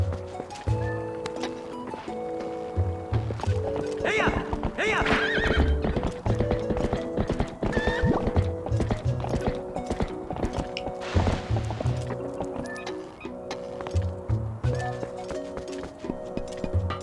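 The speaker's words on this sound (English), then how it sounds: "let's go take the horse over there." Hooves clip-clop in a steady galloping rhythm as a horse whinnies over game music in The Legend of Zelda: Twilight Princess, loud and continuous.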